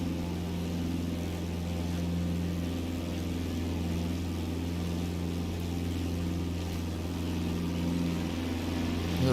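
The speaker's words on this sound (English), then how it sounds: "Listen to the noise of that engine, man." A steady, droning piston engine of a Piper PA-28-161 Warrior II in the Just Flight flight simulator runs in cruise, an even hum with a constant pitch that holds unchanged throughout.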